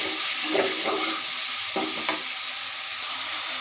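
Onion and garlic paste fries loudly in a pan, a dense continuous sizzle broken by several stirring scrapes, close and alone without speech.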